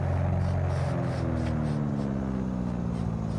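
Left engine of a twin propeller aircraft in Microsoft Flight Simulator 2020 running under power while the right is shut down, a steady droning hum with layered tones that shift gently, continuous and close throughout.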